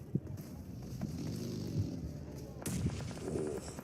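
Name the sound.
grenade explosions in PUBG Mobile video game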